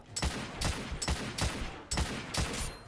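Heavy shotgun blasts from The Order: 1886 game, five or six loud booming shots spaced roughly half a second apart, each with a sharp crack and short decaying tail.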